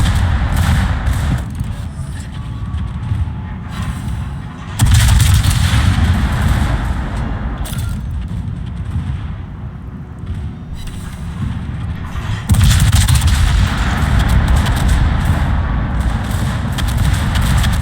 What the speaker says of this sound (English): The CV's taking fire. Yep, CV is being shot at.